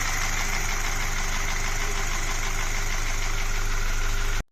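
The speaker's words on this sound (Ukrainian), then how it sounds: "Дуже громко, є у нас сторонні шуми, стуки." A VW Golf GTI 2.0 TSI engine idles loudly and steadily up close, with a rough, knocking clatter running through the hum until it cuts off at the end.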